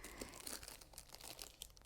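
A sealed gift package is opened with soft, close crinkling and rustling of wrapping in quick irregular bursts, faint and continuous throughout.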